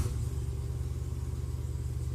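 Jeep 392 concept with an active exhaust idling after start-up at a truck show booth in Texas, a deep, steady, throbbing V8 rumble held evenly and close throughout, with no talk over it.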